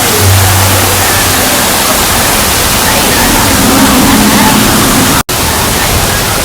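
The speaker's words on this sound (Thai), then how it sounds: "โอ้มีน้ำตกด้วยค่ะ" A waterfall roars loud and steady, a dense continuous rush of falling water that drops out for an instant near the end.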